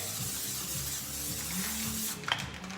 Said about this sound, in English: I'm gonna spray it with a little Pam so that it won't stick.